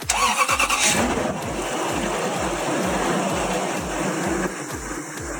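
A rebuilt Lexus LX470 engine cranks and catches, then settles into a steady, close idle with a rhythmic low chug.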